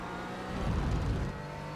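A Porsche 718 Cayman GT4 in iRacing at Okayama accelerates in second gear out of a corner, a short, close, steady engine drone rising briefly and then easing.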